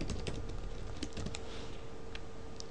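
Typing on a computer keyboard: a short run of quiet, close key clicks in uneven rhythm, with a brief pause before a few final taps, no voices.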